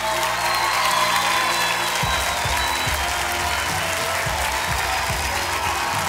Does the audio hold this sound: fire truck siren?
no